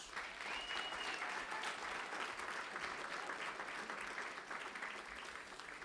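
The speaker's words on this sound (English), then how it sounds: "Let's give them a big round of applause." Applause from an audience at a graduation ceremony, fairly distant and soft, a steady, continuous patter of many hands that holds evenly throughout.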